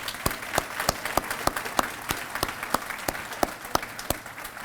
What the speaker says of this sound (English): How about another round of applause for all of our award winners here today?